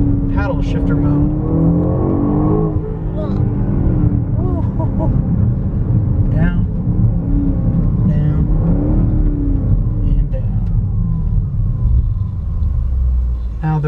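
2021 BMW X5M SUV driving in paddle shifter mode, deep loud engine rumble with rising revs from inside the cabin, continuous under a person talking.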